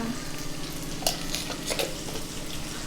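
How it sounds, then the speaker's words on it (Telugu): Lentils and onions frying in a pan with a little turmeric for an idli snack: a steady, loud sizzle with occasional stirring scrapes and clinks, continuous throughout and without speech. "పప్పులన్నీ కూడా బాగా వేగినాయండి. ఇంకా ఆనియన్స్ కొంచెం వేగిన తర్వాత అప్పుడు చేద్దాం."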